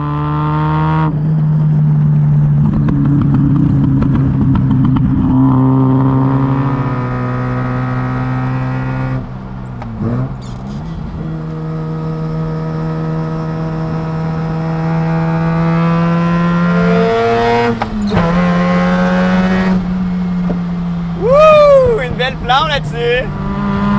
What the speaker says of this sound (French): C'est fun de faire des pulls avec cette auto-là parce que le son est intoxicant